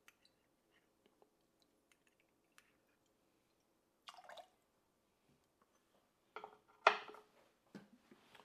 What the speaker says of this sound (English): we're going to go with a 1/2 ounce of some lemon juice